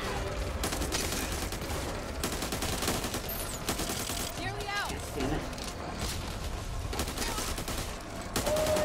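Gunfire in the video game Back 4 Blood: dense, continuous rattling bursts fill the whole stretch, loud and close, with players talking over the shooting.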